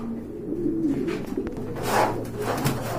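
Red-coloured pigeons, big top-quality birds kept in pairs with their young, coo in low, throaty rolling phrases up close, several birds overlapping continuously without any talk.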